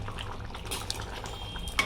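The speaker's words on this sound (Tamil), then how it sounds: "இதை அப்படியே நல்லா கொஞ்சம் நேரம் பொறுமையாக கொதிக்க விடுவோம்" Chickpea kadalai curry, made to go with Kerala parotta, simmers in a pot with a steady bubbling boil. Small pops and a faint clink sound close by, with no voices.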